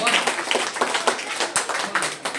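A group of schoolchildren in a classroom claps in quick, uneven bursts, fairly close and lively, with faint voices mixed in.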